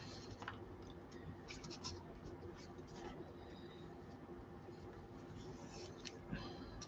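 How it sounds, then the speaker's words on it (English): Thick craft foam being cut with a razor blade for cosplay gives faint, close scratchy slicing strokes in short irregular bursts over a quiet room hiss. "I'll switch to a razor blade for this thicker stuff."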